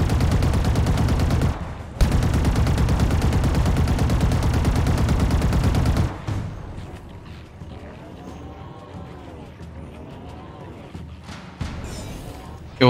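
Gunfire in the video game Halo Infinite, a dense, loud, sustained stream of shots for about six seconds, then fading to quieter game effects and scattered sounds.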